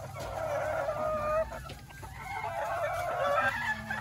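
Bantam Polish, Silkie and crested chicken hens cluck steadily in a winter coop, a close, continuous murmur of overlapping clucks and soft calls with no talking.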